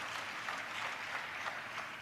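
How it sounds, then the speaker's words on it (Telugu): Congregation clapping during a church sermon, a steady wash of applause held at an even level throughout, quite distant and soft, with no one speaking over it. "చప్పట్లు కొడుతూ స్తోత్రాలు చెప్దాం."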